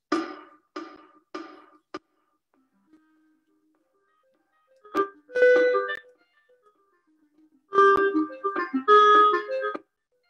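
Short synthetic clarinet phrases from the first four measures of an etude, played back by notation software, with clean, evenly spaced notes separated by silent gaps.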